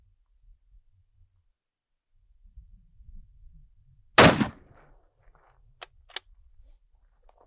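A single rifle round fired at a body armour plate out in the bush cracks out as one sharp, loud, close report, followed by faint clicks and quiet rustling.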